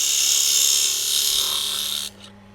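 Steady high-pitched shaving hiss of a lathe cutting, loud and continuous for about two seconds, then it stops abruptly, leaving a low hum and a faint tail of sound.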